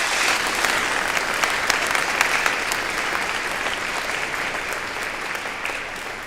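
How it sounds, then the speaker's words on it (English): A squadron of cadets at a ceremonial review and change of command ceremony gives a loud, dense round of applause that carries steadily from start to finish. "So I want you guys to give yourself a round of applause."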